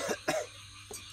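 A person coughs twice in quick succession, then gives a shorter third cough after a pause, close and fairly loud against a quiet background.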